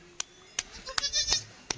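A nanny goat that has just given birth to three kids bleats in a short, wavering cry, close and clear, with a few sharp clicks and taps around it.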